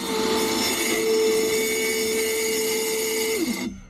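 A powered saw blade cuts through a piece of wood being trimmed in small increments, a steady loud whine holding for about three seconds before winding down and stopping.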